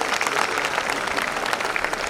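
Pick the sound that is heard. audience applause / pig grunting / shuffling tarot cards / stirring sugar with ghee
audience applause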